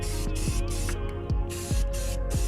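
Compressed-air spray gun hissing in repeated bursts as car wheels for a barn-find C30 are painted, each blast broadband and steady with short gaps between, close and loud over a low rumbling background.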